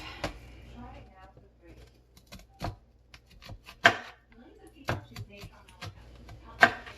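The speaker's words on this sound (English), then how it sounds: "Just going to go around my onion with my knife." A kitchen knife cuts around an onion on a cutting board, giving sparse, sharp, close-up thunks at irregular intervals while a person talks over them.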